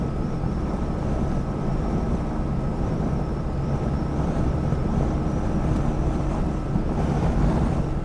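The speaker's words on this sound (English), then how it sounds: "Yeah, you can really hear that wind blowing," Wind blows and howls steadily around a Citroën 2CV on a windy day, a loud continuous low rumbling roar with no speech.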